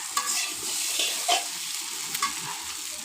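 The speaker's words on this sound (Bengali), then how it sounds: "এবার আলুগুলি ভেজে নিচ্ছি ডুমো ডুমো করে কেটে রাখা আলু সিদ্ধ করে এগুলো ভেজে নিচ্ছি" Diced boiled potatoes fry in a pan, making a soft continuous sizzle with a few brief scraping stirs standing out, close by and with no voices.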